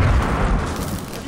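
A grenade blast in Fortnite, a loud low boom with a rumbling tail filling the whole moment, close and heavy, with a faint voice underneath.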